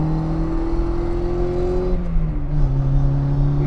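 A 1963 Austin Mini Cooper with a close-ratio gearbox accelerating hard: a loud, steady engine drone climbs in pitch, then drops briefly at a gear change before pulling on again. No voices.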